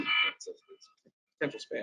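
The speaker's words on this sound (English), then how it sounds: "That is my phone ringer." A phone ringer sounding indoors in short repeated electronic tones, sharing the space with someone talking nearby.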